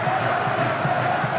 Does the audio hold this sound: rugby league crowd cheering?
yes